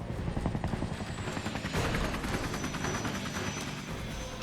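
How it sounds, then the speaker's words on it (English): A helicopter flies overhead, its rotor throbbing in a dense, continuous chop that stays loud and fairly close throughout, with no voices. "By the way, I see a helicopter."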